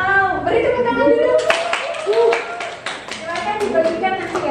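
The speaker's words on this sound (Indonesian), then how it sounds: "Beri tepuk tangan dulu." Students in a physics classroom clap during a prize handout, sharp uneven hand claps from a small group with children's voices and chatter running over them.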